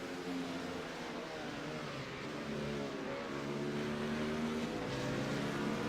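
Racing cars lap the Bathurst circuit in igpmanager, a continuous layered drone of engines holding steady pitch, with rising revs as cars close on one another.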